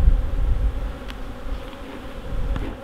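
Honey bees from an opened sweat box hive buzz in a close, continuous droning hum that swells and eases slightly throughout.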